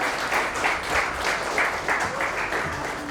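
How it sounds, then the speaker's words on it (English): Audience clapping at a corporate event welcoming company heads, a steady, fairly close patter of many hands lasting a few seconds with no talk over it. "clapping for all of them"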